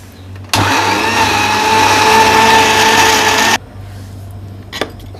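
An electric grinder blends chutney ingredients, starting abruptly and running loud and steady for about three seconds before cutting off, followed by a faint knock.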